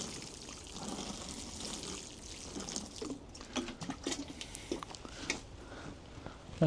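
Water is poured over freshly planted shallots at a soggy allotment, starting as a soft steady trickle, then breaking into irregular splashes and patters near the end.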